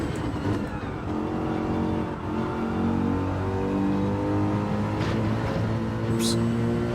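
Race car engines in Gran Turismo 7, a Mercedes and a Porsche running close together, give a steady layered drone that revs and holds at high pitch throughout, loud and continuous with no talk.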